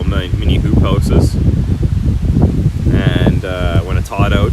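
Wind gusting around small garden hoop houses, a loud, rough rushing and buffeting close to the microphone, with a person talking over it throughout.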